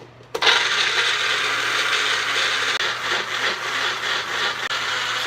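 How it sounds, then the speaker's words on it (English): A blender whirs steadily, close and loud, through a hot pepper mixture for a chicken dish, starting abruptly after a brief quiet moment and holding a constant grinding roar to the end. "Okay, now I'm ready to blend this mixture of all."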